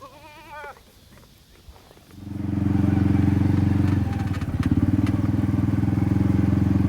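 Several goats bleat loudly in a goat pen, a dense, sustained chorus of overlapping cries that swells in after a quieter start with faint talk and continues without pause.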